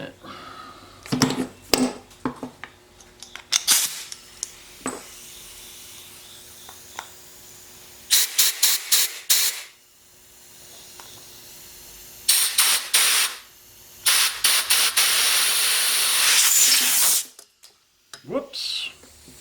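A leaky air nozzle releases compressed air in repeated loud hissing blasts, short bursts and then a longer sustained spray, while work on a McCulloch carburetor goes on with a person talking between bursts.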